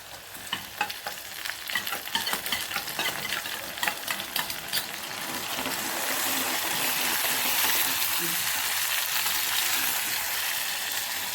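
Tomato paste and shallots sauté in oil for vatha kuzhambu, a steady close sizzle with stirring scrapes early on, then a denser, continuous bubbling hiss.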